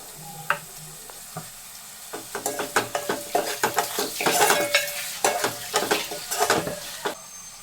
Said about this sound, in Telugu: చిన్న ముక్కలుగా చేసుకున్న వన్ టొమాటోని వేసుకొని ఫ్రై చేసుకోవాలి